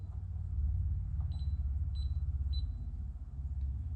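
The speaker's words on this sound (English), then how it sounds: "as soon as I start getting it close there, it starts beeping to let me know that that is live" A few short electronic beeps from a Kaiweets KM601 meter's non-contact voltage tester held near a live outlet, evenly spaced and fairly faint, over a low steady hum.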